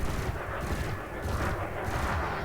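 Rapid, repeated multi-cannon bursts from a spaceship weapon in Elite Dangerous, pulsing in a steady rhythm, loud and close with no voices.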